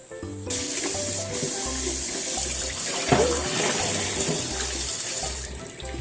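Tap water pours steadily into a sink while fresh ginger is rinsed under it, a loud continuous close-up stream with some clunks and splashes from handling.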